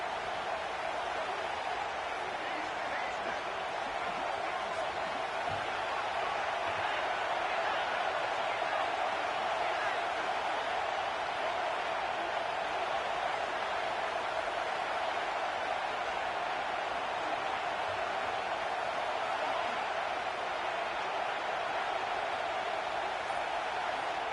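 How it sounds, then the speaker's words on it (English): Home crowd roaring at a football game in a video game, a continuous dense wash of stadium noise that holds steady throughout without letting up. "Man, this crowd really affecting the football game."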